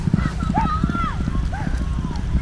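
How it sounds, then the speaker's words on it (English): Rapid hoofbeats of a galloping quarter horse drum steadily beneath loud, excited voices, with a brief whinny-like cry rising above the commotion. "riding this horse"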